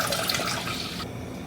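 Gluten-free chicken broth pours into a pot of water for cooking quinoa, a steady splashing liquid stream that cuts off near the end, leaving quiet room tone.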